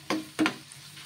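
Bottle gourd mixture with turmeric being stirred and sautéed in a pan, two short scraping strokes close by over a soft sizzle, with no talking.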